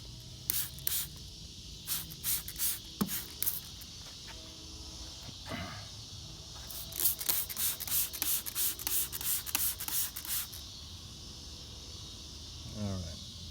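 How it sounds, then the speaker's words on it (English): Degreaser sprays in short, repeated hissing bursts onto the engine of a 2007 Honda Odyssey, clustered in quick pulses with pauses between them, close and moderately loud in a quiet garage. "you can spray that on the dirty parts"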